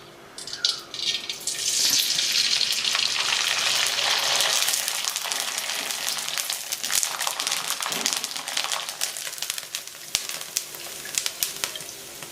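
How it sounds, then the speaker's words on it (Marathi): Dried wheat kurdai fry in hot oil, a loud, steady crackling sizzle that swells as the pieces hit the oil and continues with fine popping throughout, with no talk over it. "तुम्हाला आता कुरडई तळून दाखवते मी तेल गरम झालंय"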